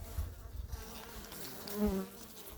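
A swarm of honeybees buzzes steadily close by, the droning hum swelling louder toward the end as more take to the air.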